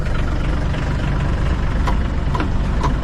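Yanmar SB60 compact tractor engine idling steadily and close by, a continuous low diesel rumble with faint mechanical clatter and no voices over it.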